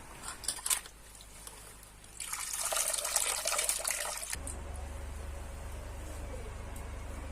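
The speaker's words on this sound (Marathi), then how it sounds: "भाजी शक्यतोवर कापण्याआधीच धुवून घ्या" Running water from a tap as wild leafy greens are washed in a sink, a soft trickle that swells into a louder rushing splash for a couple of seconds, then settles back to a low steady flow.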